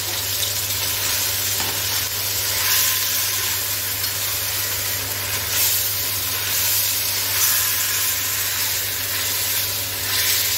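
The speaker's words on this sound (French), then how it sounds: "Et je vais remuer tout ça." Beef, onions and carrots fry in a pot while being stirred, giving a steady close sizzle with a low hum beneath and no talking.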